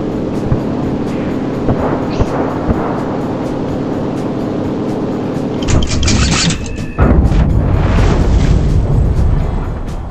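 Heavy bombs bursting on a capture point in the World War II shooter Enlisted, a loud deep boom followed by a roaring rumble of blasts that keeps building toward the end, with no talk.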